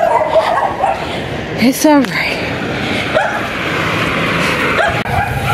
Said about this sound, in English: Nice doggy, nice doggy.